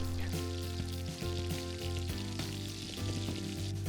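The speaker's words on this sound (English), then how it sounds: "the prawns and langoustines are quickly fried in the oil until they're slightly browned" Prawns and langoustines frying in olive oil, a close, steady sizzle with dense crackling and popping, a low hum running underneath throughout.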